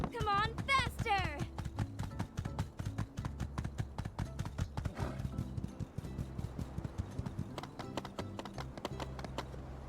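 Horse galloping in the video game My Time at Sandrock, a steady rapid clip-clop of hooves running throughout, with a whinny near the start, game music and occasional talk over it.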